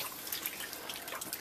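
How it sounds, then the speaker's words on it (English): Running water from a tap splashes steadily over a piece of roadkill deer venison being rinsed, a close continuous hiss and patter with no pauses. "Just rinsing it off,"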